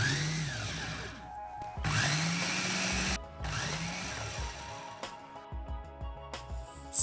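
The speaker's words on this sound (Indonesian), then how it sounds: "Oke guys, blender hingga halus." A Mitochiba CH200 chopper purees a tofu mixture, its loud motor whirring in several bursts that rise and fall in pitch, separated by short pauses as the blade runs and stops.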